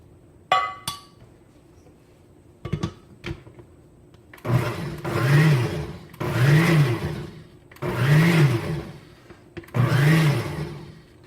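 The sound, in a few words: blender pureeing leek and potato soup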